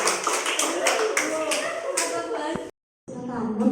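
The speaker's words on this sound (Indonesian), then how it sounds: "tepuk tangan buat kalian semua" Students clapping their hands at a vocational high school event, a burst of dense, fairly loud claps mixed with voices, cutting out briefly near the end before resuming.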